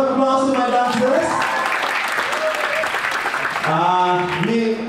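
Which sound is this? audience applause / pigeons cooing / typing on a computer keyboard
audience applause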